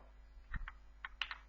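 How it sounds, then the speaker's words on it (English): Quiet typing on a computer keyboard while entering login text, a handful of light, irregular key clicks over a low steady background hum. "here I'm just typing some text like"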